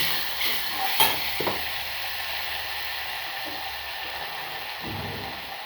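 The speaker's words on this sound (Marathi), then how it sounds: "तेला छान असं फ्राय करून घेऊयात" Chopped chilli and other ingredients frying in hot oil in a pan for a spicy sabudana kheer, a steady soft sizzle throughout with a few brief stirring scrapes and clatters near the start.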